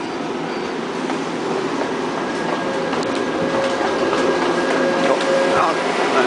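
Subway train arriving at a Seoul station, a broad rising rumble with wheel clatter and a faint squeal, with people talking around it.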